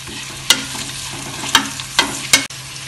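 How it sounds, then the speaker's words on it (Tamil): Green chillies and onions sauté with salt in a pan, giving a low steady sizzle broken by four sharp scrapes and clatters of stirring, close and with no talk. "நம்ம பச்சை மிளகாவையும் வெங்காயத்தையும் இதில் போட்டு நல்லா வதக்கிக்குவோம்."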